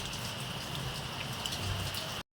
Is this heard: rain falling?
yes